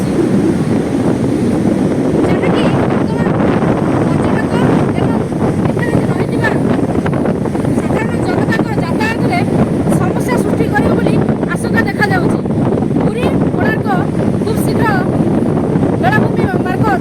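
High sea waves surge along the Puri-Konark coastal road, a loud continuous roar of surf heavily mixed with buffeting wind on the microphone.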